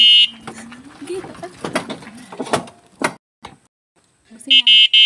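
An electric bike horn sounds in short bursts at a gate during a delivery, with a shrill beep at the start and a louder double honk near the end, separated by people talking and moving around nearby.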